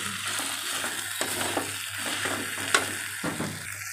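Spice paste of chilli, turmeric, cumin and coriander mixed in water sautéing in a pan, a dense crackling sizzle with repeated scraping stirs and a small metallic tap.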